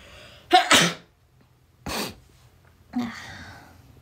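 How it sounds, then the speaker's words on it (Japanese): A single loud sneeze bursts out close by after a sharp intake of breath, followed by a couple of quieter breathy exhalations. "くしゃみ出そう"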